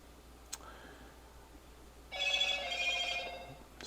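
A telephone rings with a bright electronic trill starting partway through, a sustained warbling ring close by after a faint click, with no talk.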